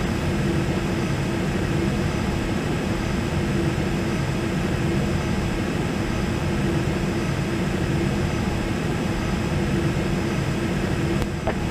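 Steady jet engine roar of a Gulfstream climbing out of San Juan in a flight simulator, a constant broadband drone with a low hum, continuous and loud throughout with no speech.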